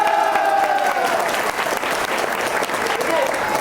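A seminar audience at a motivational programme breaks into dense, sustained applause, loud and even, filling the whole stretch with continuous clapping.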